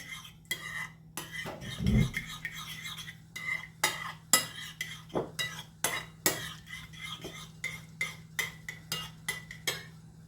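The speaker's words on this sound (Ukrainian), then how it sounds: "Також все гарно перемішую." A spoon scrapes and clinks steadily around a pot or bowl while cream is worked into a potato filling, with repeated rhythmic strokes, close and fairly quiet, without voices.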